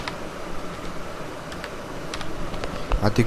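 Fingers typing a name into a web form on a computer keyboard, scattered light key clicks at an unhurried pace that grow a little busier toward the end, over a faint room hum.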